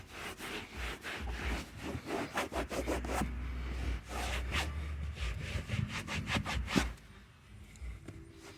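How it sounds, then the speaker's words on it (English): The interior of a Mk5 Jetta TDI is scrubbed clean with a brush, a close, steady back-and-forth rasping in quick strokes that keeps going with hardly a pause. "A lot of this is going to take some real scrubbing."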